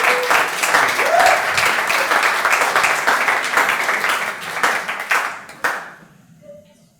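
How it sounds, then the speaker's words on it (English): Audience applause for a startup team at a pitch day, a dense, steady wash of many hands clapping that swells and holds, then thins and fades out near the end. "Give them a round of applause."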